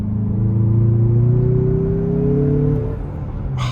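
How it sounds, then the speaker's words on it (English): A 2023 Mazda CX-50 Turbo's engine accelerates under load, a loud steady rumble with a rising tone heard from inside the cabin. "The acceleration is fantastic, a lot of torque."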